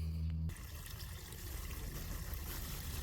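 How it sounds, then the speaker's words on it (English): Water streams steadily into a barrel for biochar inoculation, a continuous close trickling pour that starts after a brief low hum and runs on evenly without talk. "at this point, I'm going to go ahead and start adding water."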